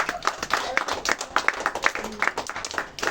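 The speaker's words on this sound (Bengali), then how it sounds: "যতটা হাতে তালি, তোমরা হাতে তালি দেবা।" Children clap their hands in quick, uneven rhythm, many small claps overlapping at close range, with some voices mixed in underneath.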